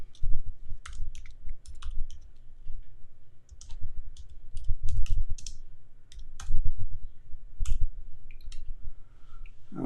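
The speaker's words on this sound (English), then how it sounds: "I'm trying to fix my keypad or keyboard right here." Irregular bursts of sharp clicks from a computer keyboard being typed on, nearby, with short pauses between runs of keystrokes.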